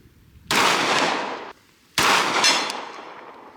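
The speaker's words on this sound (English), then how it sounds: "2 shots at 100 yards." Two loud shots from a pistol or gun fired outdoors at a 100-yard target, each a sharp broadband blast with a ringing tail, about a second and a half apart.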